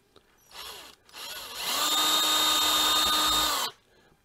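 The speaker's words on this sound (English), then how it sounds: "I'm going to take my drill and I'm going to drill straight down here where this little marks are right here" A power drill bores a hole in a leaded glass hanging terrarium: a short burst, a brief pause, then a sustained high whine lasting about two seconds before stopping abruptly, close up with no talking.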